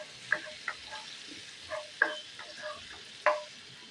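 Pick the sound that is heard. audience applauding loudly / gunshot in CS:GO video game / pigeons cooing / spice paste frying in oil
spice paste frying in oil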